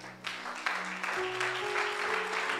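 A church congregation applauds in acclaim of a scripture reading, with steady clapping filling the room over sustained low instrumental tones.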